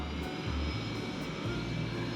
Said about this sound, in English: Hear that beautiful sound of the jet spooling up.